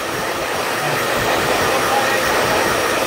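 A hair dryer blows steadily and loudly throughout while drying freshly cut medium-length layered hair with curtain bangs, a continuous close whoosh with no pauses and no talking.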